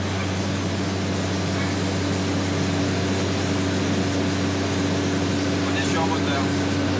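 Inside the cabin of a twin-engine light aircraft flying on one engine with the other stopped, a steady, even engine drone hums throughout.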